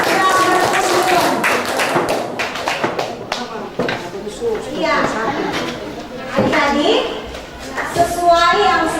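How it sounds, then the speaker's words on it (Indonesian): Students in a junior high school classroom clap in scattered, uneven bursts of sharp taps and thumps, mixed with children's chatter and an adult voice talking over the noise. "Ya, adik-adik tepuk tangan untuk kita"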